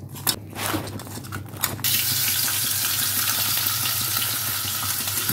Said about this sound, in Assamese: ফ্ৰাই কৰি লম অলপমান লাইট ফ্ৰাই হালধি দিলোঁ অলপ নিমখ দিলোঁ